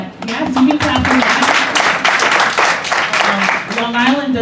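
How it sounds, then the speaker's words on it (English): An audience at an annual meeting breaks into steady applause that runs underneath a speaker who keeps talking through it. "yes, you can clap for"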